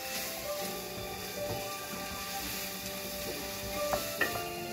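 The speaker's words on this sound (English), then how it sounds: "saute our asparagus here" Asparagus sautéing in a pan, a soft continuous sizzle with light scraping and stirring, close and fairly quiet over a few seconds with faint tonal background hum.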